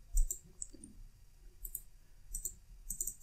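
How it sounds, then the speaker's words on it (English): Computer mouse clicks while saving a CAD file in FreeCAD, several sharp, close clicks spaced irregularly, some in quick pairs, over a quiet low hum with no talking. "click on the desktop and the block and click on save"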